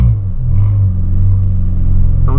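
Engine of a Volkswagen Polo car on 15-inch rims with Pirelli tyres rumbling steadily close by, a low continuous drone with slight rising revs and no talk.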